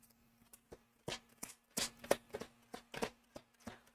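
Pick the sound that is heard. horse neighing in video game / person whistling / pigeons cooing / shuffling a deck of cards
shuffling a deck of cards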